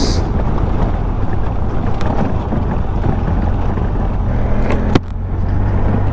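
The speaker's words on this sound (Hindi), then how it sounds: "इस टाइम यहाँ पे बहुत तेज़ हवा चल रही है" Strong, cold wind roars steadily across the microphone on a glaciated Afghan mountain pass, a dense, rumbling buffeting that stays loud throughout with a brief sharp bump near the end.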